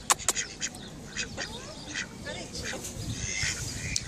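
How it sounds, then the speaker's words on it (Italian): Ducks quack in short bursts, some close and some farther off, mixed with outdoor background noise at Desenzano and a voice speaking intermittently. "Io sto tentando di parlare con le anatre"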